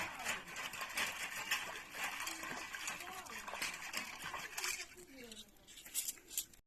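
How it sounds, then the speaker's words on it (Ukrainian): Metal shish kebab skewers being washed in water outdoors, splashing and light clinking of metal, quiet and close, with people talking over it. "Миємо шампура."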